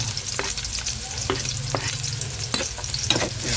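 Onion and garlic sautéing in a pan, a continuous close sizzle with repeated spatula scrapes and taps throughout, no talking.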